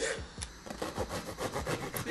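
Organic sourdough loaf being cut, a knife rasping back and forth through the crust in steady repeated sawing strokes, close and fairly quiet.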